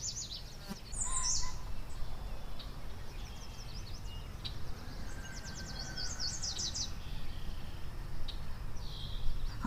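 Sparrows chirp softly in short, scattered bursts over a quiet background hum, sounding small and somewhat distant.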